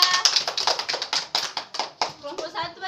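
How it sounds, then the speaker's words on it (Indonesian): A classroom group gets a brief round of applause: about three seconds of brisk, fairly close hand clapping from several students that thins out toward the end. "tepuk tangan untuk kelompok"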